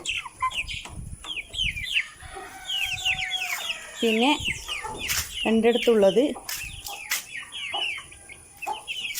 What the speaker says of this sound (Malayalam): ഇത് ഇരുപത് കോഴികളുണ്ട്